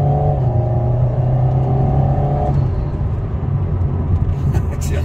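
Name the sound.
Alpine sports car accelerating on a race circuit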